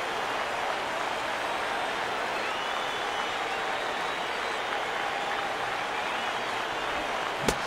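Baseball stadium crowd in MLB 15 The Show rising to its feet, a steady broad wash of applause and cheering that holds at an even level throughout, with a brief sharp knock near the end.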